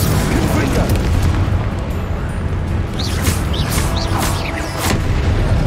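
Blast of the Confringo fire spell in Hogwarts Legacy, a dense roaring boom running through the whole stretch with sharp bursts near the end, loud and close, with a voice shouting over it.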